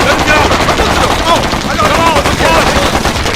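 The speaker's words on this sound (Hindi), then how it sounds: "गोलियां चलाते रहो।" Rapid, loud machine gun fire bursts in a Hindi-dubbed Hollywood horror action film, continuous and close, with shouted voices mixed under the gunfire.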